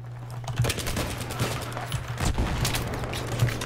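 Rapid automatic gunfire from the video game Battlefield 3 crackles in dense bursts over a steady low hum, with loud sharp shots repeating throughout the short stretch.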